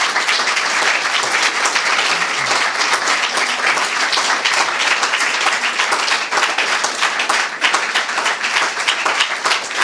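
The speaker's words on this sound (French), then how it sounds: "je voudrais qu'on les applaudisse" An audience applauds at a university anniversary celebration for the ORBi repository, dense and loud clapping from a large crowd that holds steady throughout.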